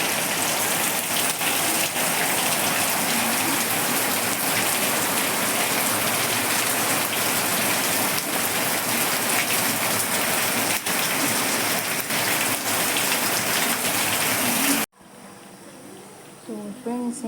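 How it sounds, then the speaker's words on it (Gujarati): Heavy rain pours steadily as a dense, loud, continuous hiss, ending abruptly near the close where a quieter room tone with faint sounds takes over. "તમે જોઈ શકો છો કેટલો વરસાદ આવી રહ્યો છે."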